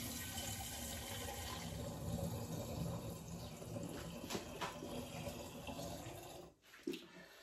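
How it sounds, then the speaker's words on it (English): Hop wine pours steadily into a glass demijohn, a continuous splashing liquid stream that fades near the end. "So I'm going to add the wine back into the original demijohn."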